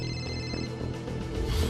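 A telephone rings in a short burst of steady electronic tones that stop partway through, followed by muffled background noise, with no talking.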